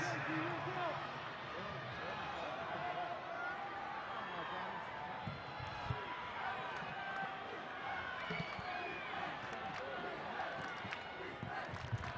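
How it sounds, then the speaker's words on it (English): Football crowd at a Las Lomas vs Irvington high school playoff game, chanting defense from the Las Lomas side, a broad steady roar of many voices under ongoing commentary. "You can hear that chant of defense now from the Los Lomas side."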